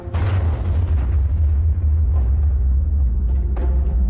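A deep, rumbling explosion from the Operation Crossroads Baker underwater nuclear test in 1946 roars loud and sustained, with a heavy low boom and a few sharper bursts over its course.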